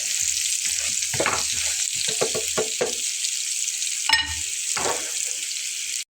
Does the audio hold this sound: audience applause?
no